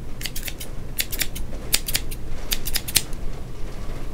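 Scissors snip quickly in rapid clusters of sharp metallic cuts, close up, like a haircut, with brief pauses between bursts.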